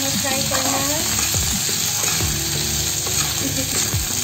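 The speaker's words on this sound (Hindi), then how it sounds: "इसे चलाते हुए हमें फ्राई करना है।" Green beans, capsicum and carrot frying in a pan while being stirred for a paneer veg biryani, a steady loud sizzle with occasional scraping strokes of the spoon, close up and without talk.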